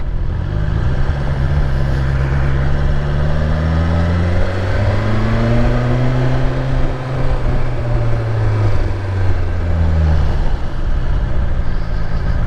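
A BMW S1000XR motorcycle engine revs loud and close, its pitch sweeping up and falling back in long repeated arcs over a constant rumbling drone, with no voices.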